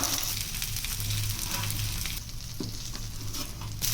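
Sardines fry in oil on a stone griddle, making a steady, close crackling sizzle that dips briefly midway, then returns, with no voices.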